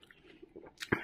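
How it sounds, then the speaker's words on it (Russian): An apple being eaten: soft, close chewing builds to one sharp, crisp bite near the end, with no talking. "Яблоко ем."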